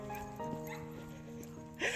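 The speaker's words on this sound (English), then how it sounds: "There's a little dog barking in the yard over there." A small dog barks repeatedly from a nearby yard on a morning walk outdoors, short sharp yips spread across the moment at moderate distance, with a louder burst of noise close to the microphone at the end.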